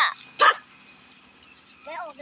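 Two sharp, close dog barks in quick succession, followed by a short stretch of a person's voice.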